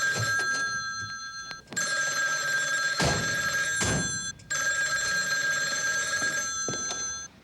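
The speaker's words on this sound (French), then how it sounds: "Le téléphone!" An old-style telephone bell rings loudly in long bursts at a fire station, with short pauses and a couple of thumps between rings; from a 1978 television episode.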